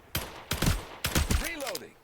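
Gunfire from the FragPunk video game: several loud, separate shots in quick succession, with a whooshing sweep of effects near the end.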